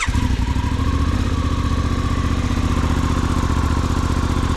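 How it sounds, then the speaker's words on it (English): A motorcycle engine runs steadily close by, a loud continuous idling chug with mechanical clatter and no voices. "I hope you can hear me over the engine"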